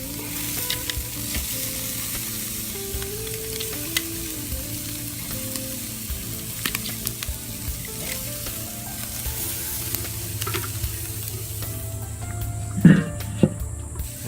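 Swordfish, shrimp, tuna and pineapple kabobs sizzle loudly and steadily on a hot cooking surface after being flipped, a close continuous crackle with occasional pops and faint tonal hum beneath, no voices.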